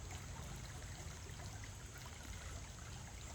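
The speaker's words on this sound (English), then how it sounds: "Can you see just beyond the two rocks where the water is streaming, there is a swirling." Water trickles and streams past two rocks outdoors, a steady soft wash of flowing water with no change in level and no talk.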